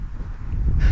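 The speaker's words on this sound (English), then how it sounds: "It's plenty windy." Strong wind buffeting an outdoor microphone at an RC flying field, a low rumbling roar that swells louder in the final moments.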